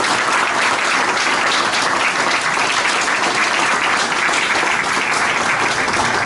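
Loud, continuous applause fills the hall at a furniture fair award ceremony, a dense, even wall of clapping from a large audience with no pause or talk.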